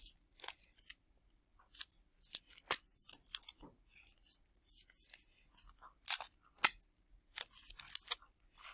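Scissors snip through a taped paper mache form in a string of crisp, close, uneven cuts with brief pauses between them and no talking.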